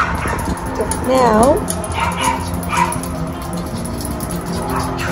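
West Highland White Terrier dogs whimper and yip in high, wavering cries with a few short barks indoors, close by, while a person talks quietly over them.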